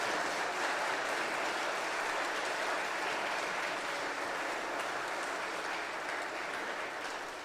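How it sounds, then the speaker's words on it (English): An audience applauds steadily, a dense wash of clapping that holds at full strength and eases slightly near the end. "If we have a big round of applause, please"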